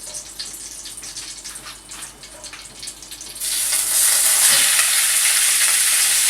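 Meat drops into a hot pot for a potato-and-meat dish and sizzles loudly, a close, bright hiss that swells suddenly after quieter stirring and clinking, with no voices.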